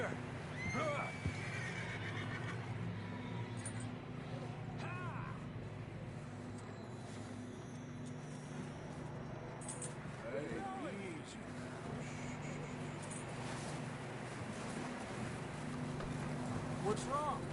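Horses in the Red Dead Redemption 2 video game give several short, wavering neighs and whinnies over a constant low ambient hum, with faint hoof clops and characters talking at intervals.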